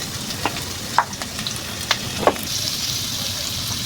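Steady sizzling of chopped onion and green chilies frying in hot oil in a wok for khichuri, with a few sharp crackles and pops scattered through, close and fairly loud, no voices.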